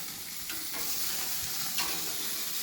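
A Stufz stuffed burger is flipped on a home grill, with steady sizzling and spitting fat heard up close under a couple of brief scraping sounds, and no talking.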